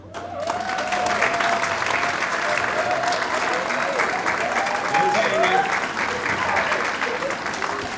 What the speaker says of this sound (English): can we also give a round of applause to Annie Escalera,